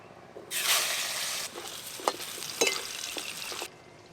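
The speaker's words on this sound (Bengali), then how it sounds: "মাছ ভাজার তেলে মাছের আলুগুলো ভেজে নেব।" Potatoes are dropped into hot oil left over from frying fish and burst into a loud, steady sizzle. A few spatula scrapes and clinks come through before the sizzle cuts off.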